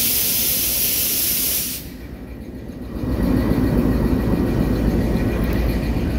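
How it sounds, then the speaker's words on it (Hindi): Farid Express train pulling slowly out of Lahore station: a steady broadband hiss and air-release spray, then a low rumbling rolling sound as the train gets moving, continuous and fairly loud with no talk. "तकरीबन रोज़ाना ही फरीद एक्सप्रेस इसी तरह एक स्लो अंदाज में डिपार्चर करती है लाहौर से।"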